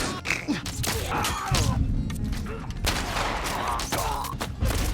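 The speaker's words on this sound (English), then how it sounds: "ignoring this one guy shooting at me" Enemy gunfire in The Last of Us, a hotel fight cleared floor by floor: scattered shots and bursts crackle at moderate distance, mixed with thuds and game sounds throughout, no speech present.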